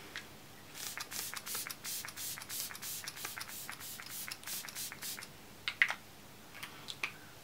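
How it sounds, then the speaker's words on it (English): Fine mist spritzed from a facial spray bottle during a skincare routine, a rapid series of soft, close hissy bursts followed by a few sharper isolated pumps, faint and without talk. "I spritz this, and this gives a wonderful glow"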